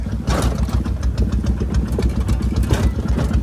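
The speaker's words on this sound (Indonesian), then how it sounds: "Tuh, ada motor." A motorcycle engine runs close by on a rural mountain road in Indonesia, a low, rough, pulsing mid-pitched rumble that holds steady throughout with no talk.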